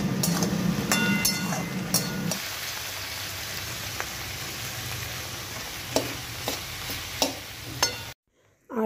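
Curry leaves and chopped garlic dropped into hot oil in a pan, crackling and sizzling steadily up close with scattered sharp pops, then cutting off abruptly.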